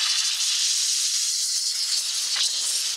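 Handheld home steam cleaner with fast heat-up releasing a steady, loud hiss of steam from its nozzle, continuous for about three seconds with a brief surge near the end before cutting off abruptly.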